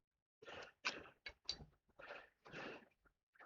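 A series of close, sharp coughing bursts, irregular and raspy, with brief pauses between them.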